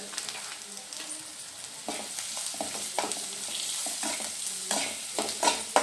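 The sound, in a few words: stirring chapati maggi with spices in a frying pan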